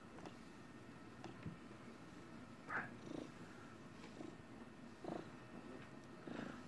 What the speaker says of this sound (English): Here goes the purring.